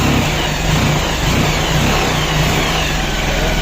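A restored Bajaj Pulsar 220 motorcycle engine running just after starting, a close, loud, steady idle with a rough mid-range throb and slight revving, heard alone without talk.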